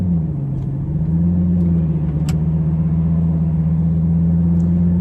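A twin-turbo Lamborghini Gallardo with a gated six-speed manual is heard from the cabin. Its engine holds a loud, steady, deep drone that rises only slightly in pitch, with no talking over it.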